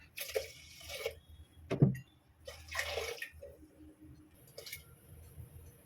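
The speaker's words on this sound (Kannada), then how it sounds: "4 ಗ್ಲಾಸ್ ನೀರು ಹಾಕೋಣ." Glassfuls of water are poured into a pot of moong dal for payasam, several short separate splashy pours with quiet gaps between them, soft and close.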